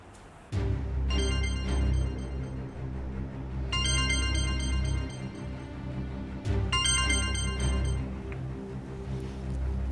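A telephone rings in a Turkish TV drama scene, two bursts of a bright electronic ring tone over a steady low music bed, loud and close.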